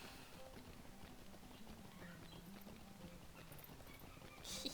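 Hooves of a swift travel horse clip-clop at a steady trot in the game LOTRO, faint and even, with no talk over them.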